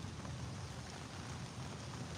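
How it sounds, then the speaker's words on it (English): Heavy rain pours down in a thick, constant roar with a deep low rumble underneath, unbroken for the whole stretch. "And so the rain comes down heavier."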